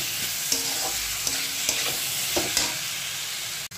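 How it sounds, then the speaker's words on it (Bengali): Spices are stirred and fried with potato and soybean chunks in a pan for a vegetarian Bengali dish. Several quick stirring scrapes sound over a steady, close sizzle. "তারপরে মশলা ভালো করে কষিয়ে নেব আলু আর সোয়াবিনের সাথে।"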